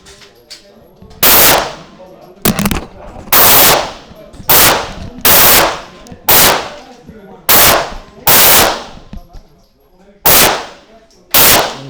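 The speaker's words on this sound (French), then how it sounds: "Allez, je m'amuse avec mon pote le Glock." Glock pistol fired at a gun shop range, about ten loud sharp shots spaced roughly a second apart with echoing tails, a person's voice faint in the gaps.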